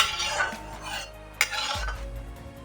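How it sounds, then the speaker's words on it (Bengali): Mustard oil being swirled around a wok on a gas stove, with soft scraping and stirring strokes, a single sharper clink of metal, and a low burner rumble beneath, close by and without talk. "কড়ার চারিদিকে তেলটাকে ভালোভাবে গুলিয়ে দিলাম।"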